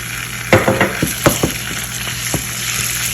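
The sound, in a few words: ginger garlic paste frying with browned onions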